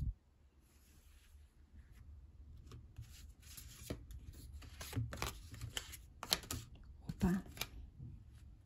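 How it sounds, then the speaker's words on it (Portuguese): Tarot cards being shuffled by hand, a run of quick papery riffles and slaps of varying loudness, close up, with brief pauses between bursts. "deixa eu embaralhar de outro jeito"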